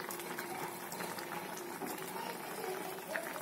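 Bengali koi fish curry with tomato bubbling in a pot on the stove, a steady close simmering and fizzing that carries on without a break.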